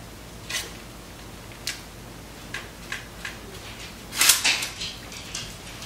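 A blade scores the top of a sourdough loaf before baking, giving a handful of quiet, crisp slicing strokes spaced a second or so apart, with one louder, longer cut near the end and no talking.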